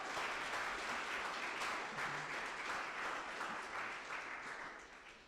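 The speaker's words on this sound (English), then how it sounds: "Give her another round of applause, please." Live event audience applauding a speaker after a talk, a sustained roar of many clapping hands that holds steady and then gradually fades toward the end.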